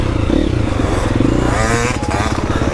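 A four-stroke enduro motorcycle revs hard while riding off-road in winter, a loud, close, throaty engine roar rising and falling with some clatter and scraping.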